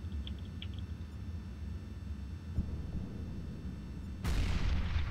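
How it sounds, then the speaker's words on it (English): A grenade explodes in a video game as one sudden loud boom late in the clip, following a quieter stretch of background game noise. "Nade down, Ivy."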